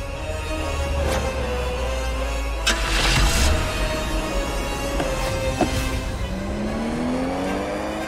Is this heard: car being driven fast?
yes